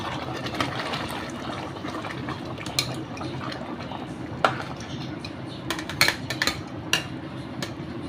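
Mutton stock poured into a pot of pulao on low gas: a continuous soft liquid wash with scattered clinks of a utensil against the metal pot, close and fairly quiet.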